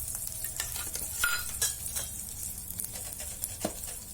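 A spoon stirs farali kadhi with sesame seeds and coriander in a pan, producing soft scraping and clinking strokes over a steady faint sizzle, with no voices.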